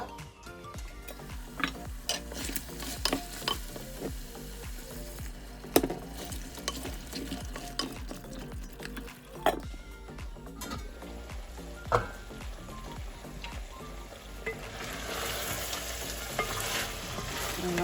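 Goat meat sizzles steadily in a pan with a little added water while a utensil scrapes and stirs in irregular clicks and knocks, the frying hiss growing toward the end.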